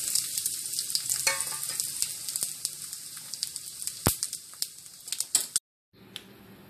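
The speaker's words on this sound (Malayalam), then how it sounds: "ഇനി നമുക്ക് കടുക് വറുക്കാം." Mustard seeds, urad dal and dried red chillies fry in hot oil for a spinach masiyal tempering: loud, close sizzling with rapid popping crackles and sharp spits, then an abrupt drop to near silence near the end.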